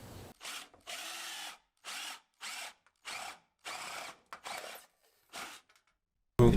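A 3/4 inch drill bit boring holes in the Hummer H3 spare tire carrier, heard as a close power drill whirring in about eight short, even bursts separated by brief silences.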